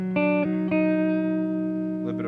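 A Gibson LPJ electric guitar played through a Fender '68 Custom Deluxe Reverb reissue amp with vibrato and reverb on, sustained chords struck a few times and left ringing with a wavering tail, loud and close.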